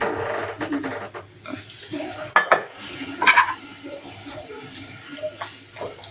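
Breaded chicken being tipped from a pot into a baking tray, with metal clinks and scrapes of pan and utensils, a couple of sharper clanks midway, and a voice talking underneath.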